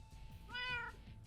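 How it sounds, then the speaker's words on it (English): A cat meows once in a video game, a single clear mid-length meow over a faint low background hum. "And there's their cat."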